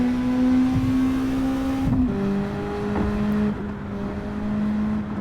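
Racing car engine in Gran Turismo 7 heard from the interior, a loud sustained high-pitched scream holding steady, dipping briefly at a gear change, then droning on at a slightly lower pitch, with no talking.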